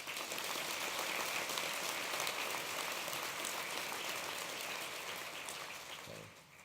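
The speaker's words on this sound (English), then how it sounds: "So I'd like for you guys to give him a hand clap." Quiet, distant round of applause from an audience at a kids' event in Denver, steady dense clapping that gradually fades near the end with a brief low thump.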